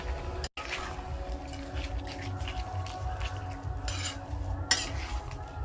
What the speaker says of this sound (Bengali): এবার এটা মিশিয়ে দেবো ভালো।